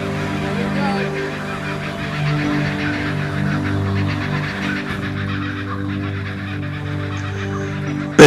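Geese honk loudly and steadily at Theresa Creek Dam near Clermont in central Queensland, a dense, overlapping chorus of nasal calls filling the whole stretch with no talk.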